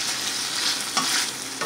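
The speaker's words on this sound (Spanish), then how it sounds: "aquí tengo como unos, diría como unos 5 a 8 minutos cocinando la pechuga" Chicken breast fries in a pan for fajitas, browning with a continuous loud bright sizzle and occasional stirring bursts, close and without talk.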